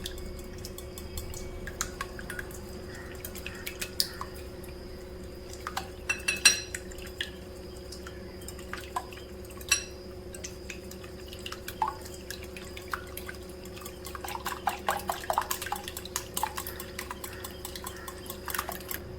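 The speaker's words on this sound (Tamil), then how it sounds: "ஒரு சிட்டிகை மஞ்சத்தூள் இதை இப்போ நல்லா கலக்கிக்கலாம்" Egg Manchurian batter seasoned with turmeric is stirred in a bowl, the utensil tapping and scraping softly against the sides with wet squelching, steady and close, growing busier toward the end.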